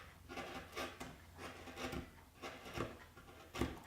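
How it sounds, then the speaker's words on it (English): A 1-inch wood chisel pares and scrapes the throat face of a wooden spokeshave body in quiet, rhythmic strokes, about five passes close to the listener. "Now I like to clean it up with a 1-inch chisel."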